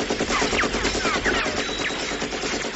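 Gunfire in GTA 5 rattles in dense, rapid bursts, loud and nearly continuous for a few seconds with no speech over it.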